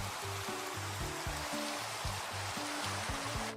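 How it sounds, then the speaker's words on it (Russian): Rain pours in the video game Minecraft as a steady, even hiss throughout, with low tonal game sounds running beneath it and no talking. "Он наколдовал дождь?"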